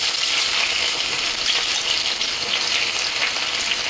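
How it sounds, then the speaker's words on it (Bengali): Chopped onions with chillies and bay leaf fry in hot oil, a steady bright sizzle that holds close and loud from start to finish, with no voices. "নিয়ে এখন এর মধ্যে দিয়ে দিচ্ছি আমি কেটে রাখা পেঁয়াজ কুচি"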